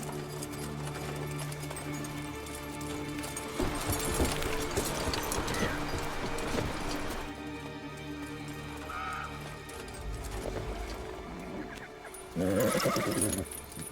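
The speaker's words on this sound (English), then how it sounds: "Is Roach one of those horses" A horse whinnies amid busy sound effects and music in The Witcher 3: Blood and Wine, with rapid clattering hoofbeats and a loud burst near the end.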